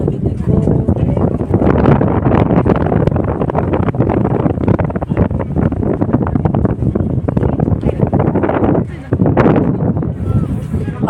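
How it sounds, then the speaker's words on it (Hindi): Strong wind buffets the microphone on the deck of a moving cruise ship at night off Dubai, a loud continuous roar with gusty surges and a brief lull near the end, while people talk over it. "हवा चल रही है बढ़िया।"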